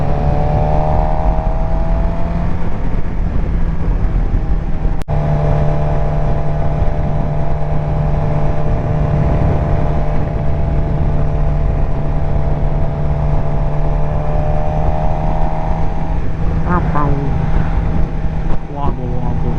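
A sport bike's engine drones steadily while riding, loud and continuous with wind rush, easing and pulling as it accelerates toward the end.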